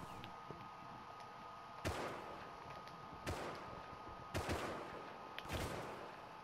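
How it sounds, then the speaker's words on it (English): Shotgun blasts from the video game Rust, four sharp broadband reports spaced about a second apart over a low, steady game background, moderately loud with no talk. "I just tried shooting with a shotgun"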